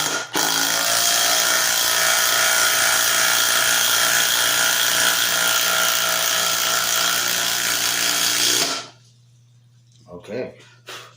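A new DeWalt 12V Xtreme impact wrench drives a screw into solid wood with no pilot hole, a loud continuous whirring hammer that runs steadily for about eight seconds before stopping abruptly, followed by a low hum and brief faint sounds.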